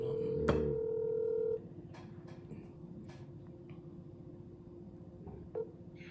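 Phone dialing tones as a call is placed, a single clear beep followed by faint keypad ticks and clicks at low volume, with quiet room sound behind it.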